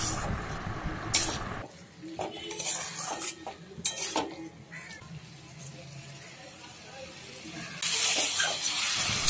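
Potatoes fry in spice masala in a pan with a soft sizzle under repeated clinks and scrapes of a spatula stirring, close up, with brief background sounds and faint voices.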